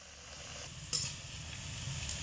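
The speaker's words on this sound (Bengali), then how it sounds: "এবার গরম তেলের মধ্যে সিঙ্গারা একে একে দিয়ে দেব" Samosas fry in a pan of hot oil, three at a time, with a steady, dense sizzle and bubbling held at an even level throughout and one brief louder crackle near the middle.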